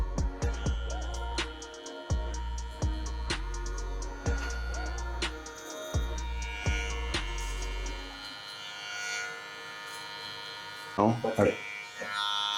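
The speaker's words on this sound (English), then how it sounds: "Now I come in with clipper open, full open, just to connect this line to the fade." Electric hair clippers opened fully to connect a high taper fade, a steady close buzz that stops and restarts several times before falling silent, with someone talking over it.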